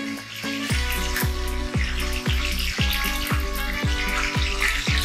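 Whole cumin seeds tempering in hot oil with bay leaves and green chillies, a loud, steady sizzle and crackle broken by regular rhythmic thuds, about two per second.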